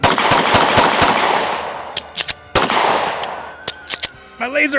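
A pistol fitted with an auto switch fires full-auto in rapid bursts, loud sharp cracks in quick strings then a few separate shots, followed by someone speaking briefly.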